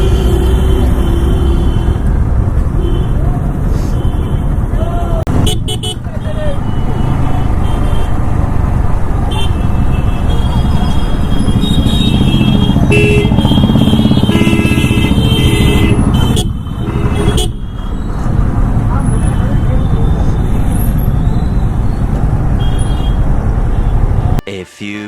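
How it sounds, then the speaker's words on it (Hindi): Busy road traffic at the Hediya stop in India, heard from a moving motorcycle, with engines, car and truck horn toots and loud wind rumble throughout. "इधर भाई हर टाइम ट्रैफिक रहता है।"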